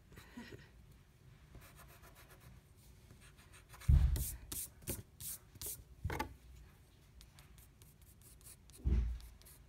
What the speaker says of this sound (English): Erase that.